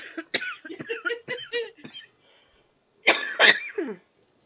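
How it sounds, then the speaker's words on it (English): A close, hoarse run of coughs, then a short pause before a second strained coughing fit. "that is me coughing"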